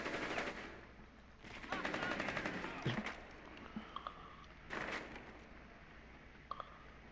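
Gunfire in the video game Rainbow Six Siege comes in rattling bursts of rapid automatic shots, broken by a few sharp single cracks and short quiet gaps.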